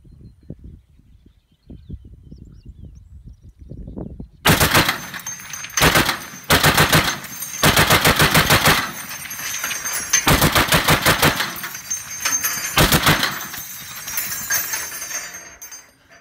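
A .50 caliber machine gun fires on an outdoor range in several loud, sustained bursts of rapid automatic shots separated by short pauses, after a few seconds of quiet handling noise.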